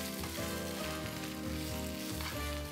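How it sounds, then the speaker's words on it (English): Spinach and shallots sauté in a hot pan, a steady soft sizzle running continuously under louder background music with sustained chords. "I'm cooking the spinach in real time so you can see what's really going on."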